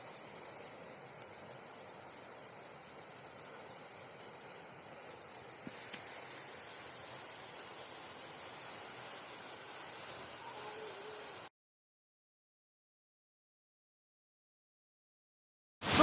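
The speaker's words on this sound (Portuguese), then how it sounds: "aqui nós estamos na cachoeira conhecida como Cachoeira Santa Bárbara. E nela nós podemos ver um grande volume de água que cai." The Santa Bárbara waterfall sends a large volume of water crashing down in a steady, dense hiss and roar that holds for about eleven seconds before cutting off abruptly into silence.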